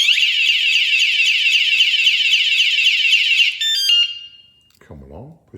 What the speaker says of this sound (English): they do that again, and it sets the alarm off.